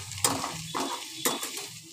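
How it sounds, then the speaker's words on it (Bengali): Grated ginger is stirred in a frying pan, with repeated scraping strokes of a utensil against the pan over a soft frying sizzle and no talking. "আদাটা দিয়ে খানিকক্ষণ একটু নাড়াচাড়া করে নেব"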